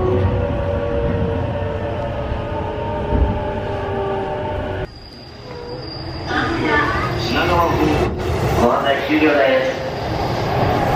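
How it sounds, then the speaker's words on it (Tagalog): A Keihin-Tohoku line train in Tokyo rumbles and hums steadily, loud and close, with the sound shifting midway as it runs on, and announcement-like voices heard over the rail noise. "Ito yung sasakyan ko na train,"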